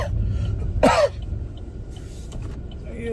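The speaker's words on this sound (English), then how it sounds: "Why are you coughing in your hand though?" A single short, sharp cough into a hand sounds up close over a low, steady vehicle rumble, with faint sounds around it.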